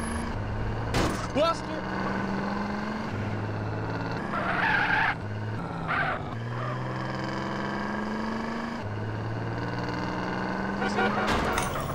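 A raised hydraulic lowrider car in GTA San Andreas revs and drives with a droning engine that rises and falls. Short tire skids break in, and a voice talks over much of it.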